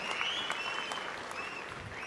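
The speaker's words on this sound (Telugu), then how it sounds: "గట్టిగా చప్పట్లు కొట్టి అభినందించండి" An audience at a handloom weavers' meeting applauds, a dense, steady burst of many hands clapping at moderate distance for about two seconds.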